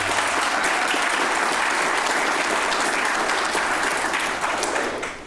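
Live audience applause fills the room at a steady, dense level, many hands clapping at once before tapering slightly at the end.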